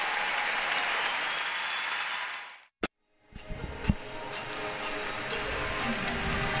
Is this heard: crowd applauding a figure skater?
yes